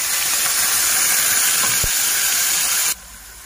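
Steady, loud hissing sizzle as chopped onion hits a hot oiled pan while stuffed vegetable dolma is being cooked, a continuous bright crackle that drops off abruptly near the end.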